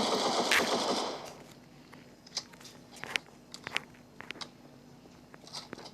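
Gunfire in Counter-Strike: a loud burst at the start, then scattered sharp shots and clicks, some near and some further off, with no talk over them.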